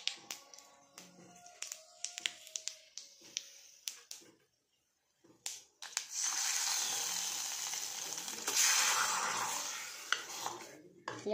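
Dried chili and five-spice seeds go into hot oil, a few sharp clinks and taps of utensils first, then a steady close sizzle that swells and stays loud to the end.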